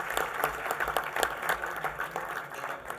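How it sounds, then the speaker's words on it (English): Audience applause at a smart growth summit on Long Island, a steady patter of many hands clapping at moderate volume for a few seconds, with no voices over it. "And if you want to clap, you can."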